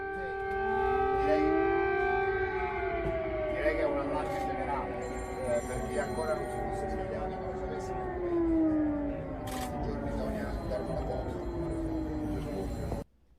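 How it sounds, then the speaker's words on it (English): Wailing air raid sirens rise and fall continuously in Kyiv, Ukraine, several overlapping tones echoing across the city's downtown, with a voice talking over them. "air raid sirens are going off in Kiev, Ukraine's capital"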